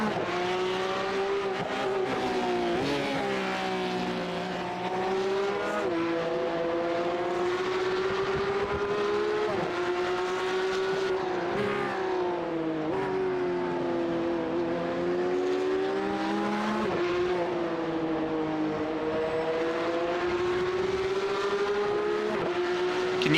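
Race cars lapping in the iRacing sim, a Radical SR8 and Porsche Cup field, engines revving up and down through gear changes in a continuous loud drone with rising and falling pitch, no talk.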